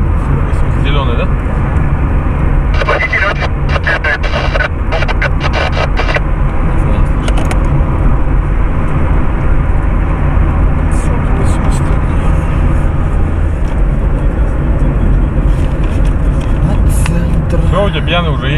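A green VAZ Shestyorka car drives past in a loud, continuous engine and road roar, with people talking over it throughout.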